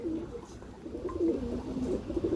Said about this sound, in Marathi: एकदम सुपर क्वालिटीचे कबूतर आले आहेत मित्रांनो.